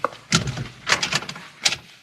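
Someone rattles and tries a locked door in an old radio western drama, giving several uneven bursts of knocking and jiggling, close and moderately loud.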